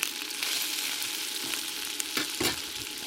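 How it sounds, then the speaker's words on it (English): Garlic and ginger frying in a pan with crushed dried chili pepper, a steady close sizzle and crackle with a couple of stirring scrapes and no talking. "you fry this up a little bit"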